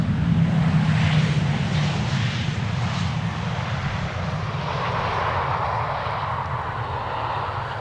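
A Boeing 737 airliner lands at Schiphol Airport with its thrust reversers applied, a loud sustained jet roar that rumbles steadily, then eases into a broader whooshing wash as the aircraft slows.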